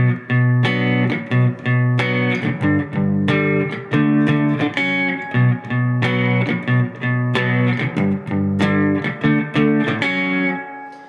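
Distorted electric guitar plays the bridge phrase of a song twice through, loud and steady, with chords and single notes in a repeating rhythmic pattern and no talking.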